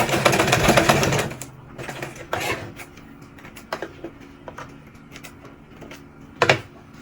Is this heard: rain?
no